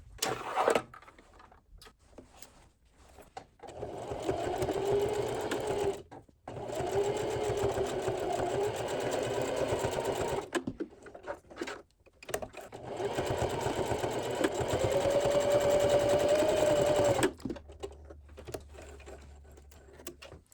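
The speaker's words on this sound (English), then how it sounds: "I'm going to sew each strap end to the bag using a 1/4 inch seam allowance." A sewing machine stitches strap ends onto a fabric drawstring gift tote with a quarter-inch seam, running in three steady bursts separated by short pauses, close and fairly loud, with no talk over it.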